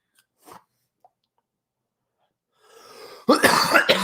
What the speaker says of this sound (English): always coughing in the morning